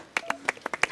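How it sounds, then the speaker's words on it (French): Several sharp, irregular hand claps from a small group, a brief scattered round of applause close by, with faint voices alongside. "On applaudit."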